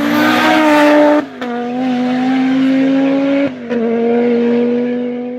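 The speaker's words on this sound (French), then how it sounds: "cette Audi Quattro de Michel Mouton où elle a été championne du monde, non seulement elle était performante, mais elle avait un bruit qui était extraordinaire" An Audi Quattro Group B rally car with a five-cylinder turbo engine roars loud and close, holding a steady rasping note with two brief gear-change dips before pulling on again.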